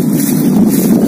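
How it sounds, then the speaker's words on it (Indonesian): Strong wind buffets the microphone outdoors during a bird-flying session, a steady loud rumbling roar that stays constant for the whole moment with no talk over it. "Oh, bagus angin."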